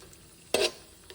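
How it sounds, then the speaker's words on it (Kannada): Cashews fry in a pan with a faint background hiss, broken by one brief loud scrape or stir and a small clink near the end. "ಆನಂತರ ಗೋಡಂಬಿನೂ ಫ್ರೈ ಮಾಡ್ಕೊತಾ ಇದ್ದೀನಿ."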